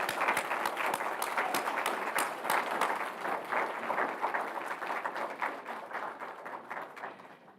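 New attorneys stand and applaud their supporters at a Law Day recognition ceremony, a sustained roomful of clapping that stays loud and dense, then begins to thin near the end.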